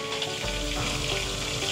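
Onion and pepper frying in a pot alongside sausages, a steady close sizzle that fills the whole short stretch without pause.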